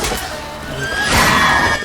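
A horse neighs in The Witcher 3, one loud, close whinny with a rising then wavering cry, heard alone over faint background rumble.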